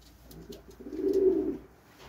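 Homing pigeons coo softly, one low rolling coo swelling in the middle, faint and close, with a few light rustles around it.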